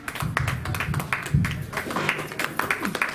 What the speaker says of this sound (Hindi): आप सब जोरदार ताली बजाएं।